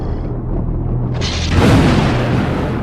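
A plant grenade blasts in the post-apocalyptic survival game Rooted, a loud booming burst that swells midway through and rolls on as a dense, rumbling roar.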